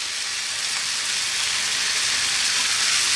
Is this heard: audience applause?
no